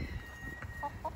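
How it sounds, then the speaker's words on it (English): A painted silkie rooster clucks softly a couple of times at close range over a low, steady background murmur. "Here's a painted silky. You're a rooster, aren't you?"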